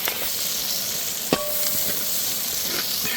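Okra sautéing in hot oil with turmeric for an okra masala curd pachadi gives a steady close sizzle, broken by a sharp clink or two from a stirring utensil, with no talk.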